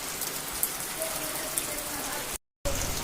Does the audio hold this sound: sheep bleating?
no